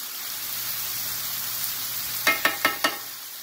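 Venison and elk meat sizzle steadily in a stir-fry pan, a constant close hiss of frying, followed near the end by four quick evenly spaced scraping or tapping strokes as the meat is spread out.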